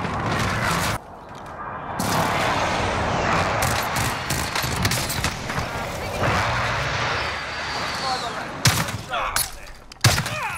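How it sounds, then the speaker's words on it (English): Precision airstrike explosions in the Call of Duty Warzone video game, heavy booming blasts with rattling, gunfire-like bursts that go on and on, capped by sharp louder cracks near the end. "Pazi, precision airstrike."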